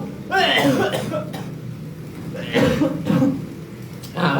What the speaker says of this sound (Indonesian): Batuk saya.